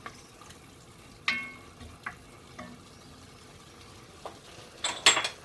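Chickpeas and minced meat for an okra dish sautéing in a pan, a quiet steady sizzle broken by a few sharp scrapes and clinks of a utensil stirring against the pan.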